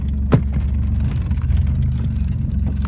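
Idling engine of a Renault 9 Broadway with the clutch being pressed, a steady low rumble holding close and even throughout with slight fluctuations and a brief tap early on.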